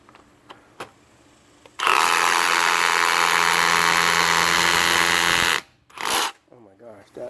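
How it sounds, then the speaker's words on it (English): Ridgid R86712B SDS rotary hammer drill in hammer mode boring into flagstone, a loud, steady hammering roar lasting about four seconds, preceded by a few light knocks and followed by brief talking. "Let's try hammer mode drill."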